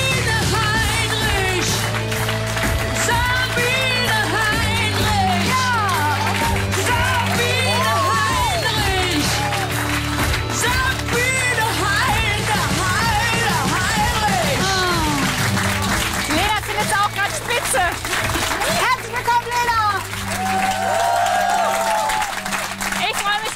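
Studio audience applauding for a host on a 1LIVE radio talk show, a sustained wash of clapping and crowd noise with music underneath and voices talking over it.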